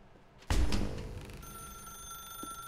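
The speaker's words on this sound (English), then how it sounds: "Now pick up the phone." A telephone in the video game The Stanley Parable rings in a single loud, bright bell burst that decays into a sustained, steady electronic tone.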